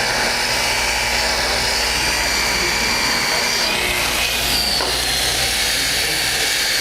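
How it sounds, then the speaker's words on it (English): A power buffer polishing paint near the headlight of a 1957 Chevy, a loud steady whirring motor drone with slight shifts in pitch as the pad moves over the curved panel. "I'm buffing out this section of the paint right there"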